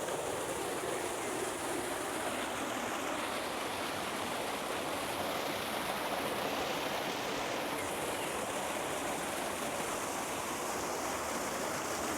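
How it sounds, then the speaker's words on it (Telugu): Waterfall in a German village, a steady dense roar of falling water that stays constant and full throughout, close by with no voices. "ఇక్కడికి వస్తే ఒక మంచి వాటర్ ఫాల్ కనబడింది ఇక్కడ అది కూడా ఒకసారి మీకు చూపిస్తాను నేను"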